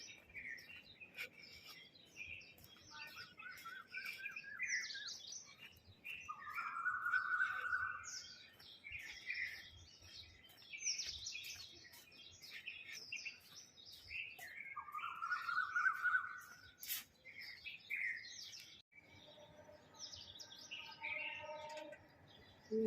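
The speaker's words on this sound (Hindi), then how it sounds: "ये पेड़ पौधे, चिड़ियाओं की आवाज़" Birds chirp among trees outdoors, with repeated tweets and calls from several birds, including two longer, clearer song phrases, moderately close and fairly quiet against soft background noise.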